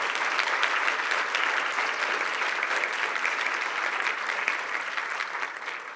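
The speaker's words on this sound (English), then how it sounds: "I still want to send them a resounding applause for their work and engagement on campus" Sustained, even applause from an audience at a campus program honoring students, a soft, continuous wash of many hands clapping with no talk over it.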